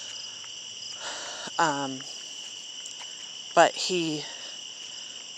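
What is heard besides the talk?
frog or insect chirping at night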